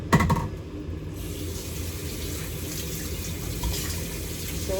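Crocodile meat rinsed under a running tap, a steady close gush of water filling and splashing in a sink, with a brief clatter at the start.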